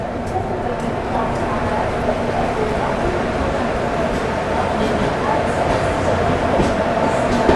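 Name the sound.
Humsafar train slowing on approach to Lonavla station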